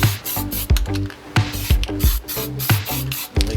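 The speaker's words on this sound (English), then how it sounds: "I am painting the cutting surface of the blade" Rhythmic bursts of spray paint hiss in short, close, repeated passes as the cutting surface of a Scott Bonnar 45 reel mower blade is coated, each burst loud and alone with no voices.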